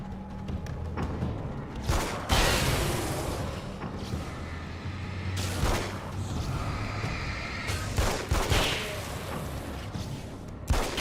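Pump action shotgun firing in the video game Alan Wake's American Nightmare, several loud booming blasts spaced a few seconds apart with mechanical handling sounds between them and no talk.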